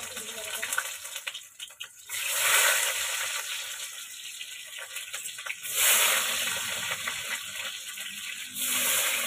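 Onions dropped into hot oil sizzle with a bright, steady hiss that swells in several louder bursts, close and continuous.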